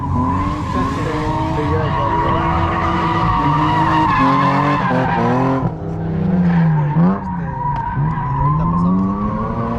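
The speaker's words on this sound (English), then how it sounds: "Es el mismo lugar, los carros están haciendo drifting" Cars drifting at Thunderhill raceway, loud tires squealing and skidding in long wavering howls over revving engines, the squeal bending in pitch as the cars slide through the corners.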